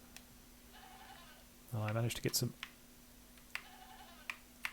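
Goat in the survival game ARIDA: Backland's Awakening lets out one loud, close bleat, with someone speaking briefly around it and faint clicks in the background.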